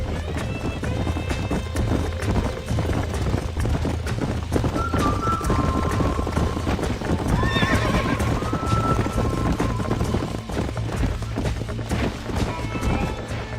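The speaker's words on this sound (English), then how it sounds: "These are fine horses." Horses in the Red Dead Redemption game gallop with steady rapid hoofbeats over low background music, joined by a few whinnies rising in the middle, all loud and close throughout.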